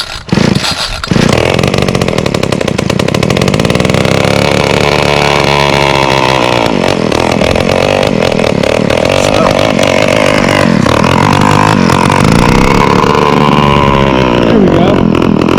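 A small petrol engine on a yard tool sputters, catches and then revs loudly up close, holding a buzzing, wavering drone with rising and falling throttle throughout.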